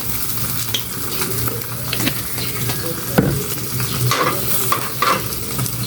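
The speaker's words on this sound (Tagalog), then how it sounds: "Kaya magsangag po ako ngayon. Fried rice." Rice frying in oil in a pan for fried rice, a dense continuous sizzle with repeated scraping and stirring strokes of a spatula, close and fairly loud, with no speech.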